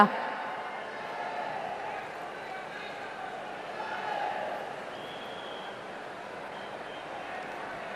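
Audience applause fills a formal ceremony where a traditional Bobbili veena is presented to Prime Minister Narendra Modi, a steady broad wash of clapping with crowd murmur that holds for about eight seconds.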